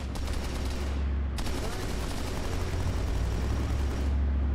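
Dense, continuous machine-gun fire and battle noise from a video game firefight during an early Covenant War battle at New Delphi, loud and unbroken throughout with a low rumble underneath.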